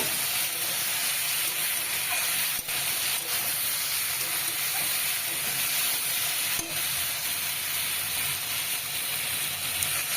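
Okra and potato tilapia curry sizzles steadily in a cooking pan while being stirred, a loud continuous frying hiss with faint scrapes and a couple of brief knocks.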